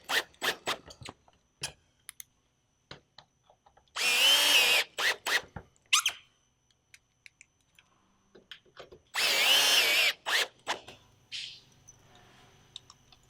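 A power drill drives screws into Colorbond steel barge capping on a metal roof, two sustained whirring runs of about a second each, separated by sparse clicks and handling taps, close and fairly loud with no talk.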